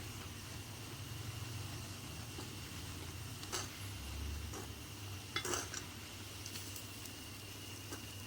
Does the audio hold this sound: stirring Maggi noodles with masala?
yes